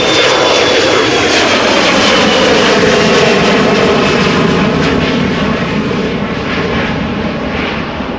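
Aircraft jet engines roar at Amsterdam Schiphol Airport, a loud, continuous, close rumbling whine that fills the whole stretch with no voices over it.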